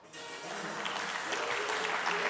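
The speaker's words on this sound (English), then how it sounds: "how about a big round of applause for Mr. Tom Kovalak?" A big round of applause rises quickly from an audience welcoming an SRP senior program manager to speak on energy saving, building into steady, fairly distant clapping.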